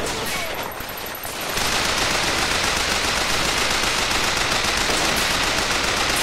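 Rapid machine gun fire rattles in Bioshock Infinite, beginning after a quieter first second and then continuing as a dense, loud, unbroken burst to the end.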